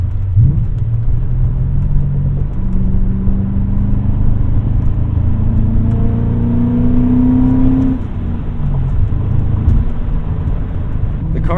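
A 2001 BMW E39 M5 with its naturally aspirated V8 runs close and loud, its engine note rising and falling in steady revs with a smooth rumbling drone throughout.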